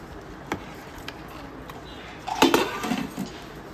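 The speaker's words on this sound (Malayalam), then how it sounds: "നമുക്കൊന്ന് ഇളക്കി കൊടുക്കാം." Chicken biryani masala being stirred in a pot: a few sparse utensil knocks, then a louder burst of scraping and clinking against the metal near the end, up close over a quiet background.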